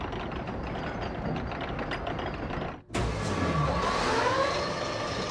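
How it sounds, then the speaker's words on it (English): An electric motor hauling a 7-ton cable car uphill, a steady mechanical drone that dips briefly to near silence, then returns louder with a rising whine and rumble, continuous and close. "this electric motor has made it all possible, pulling the 7-ton car to the top of the hill"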